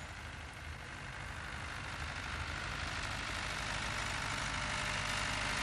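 A 1978 self-driving tractor running in a field, its engine a steady low rumbling drone that holds evenly throughout with no voices.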